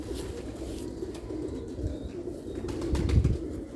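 Slate-grey Sialkoti pigeons coo in low, rolling murmurs close by, with a soft stir of movement and a fuller burst of cooing near the end.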